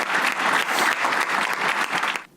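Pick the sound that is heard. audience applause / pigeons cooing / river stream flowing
audience applause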